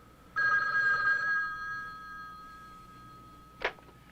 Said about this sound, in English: A phone that looked like that's got like that 80s like digital ring sound.